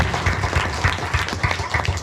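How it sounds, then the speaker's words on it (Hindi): Applause and clapping from an audience at a Foundation Day prize distribution ceremony, a steady broadband patter lasting throughout with a faint voice beneath. "जोरदार ताली बजा दें।"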